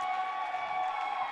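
A gym crowd cheers and murmurs at a girls varsity high school wrestling match, a steady, fairly distant roar with no clear talk.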